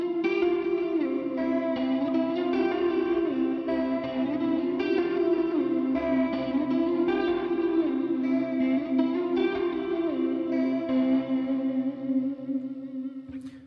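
Electric guitar song intro played on the neck pickup through a Helix multi-effects patch, a continuous sustained melodic line drenched in echo, reverb and chorus with light distortion, loud and alone without any talk.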